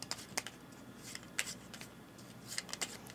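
Someone shuffles a deck of cards up close: quick papery riffles and soft slaps come in short uneven bursts, fairly quiet, with no voices.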